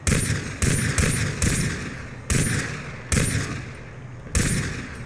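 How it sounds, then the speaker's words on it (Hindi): Repeated bursts of heavy gunfire in a video game as a boar is shot, about six loud volleys in quick succession with sharp onsets, each trailing off before the next, no talk over them. "अरे यार उसको बहुत गोलियां लगी यार, वो मर गया मर गया मर गया"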